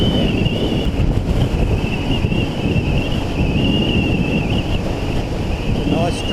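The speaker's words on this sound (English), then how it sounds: "today again it's really windy" Strong gusting wind buffets the microphone on a motorcycle ride along a South Australian highway near the Flinders Ranges, a loud continuous roar with a steady engine whine running beneath it.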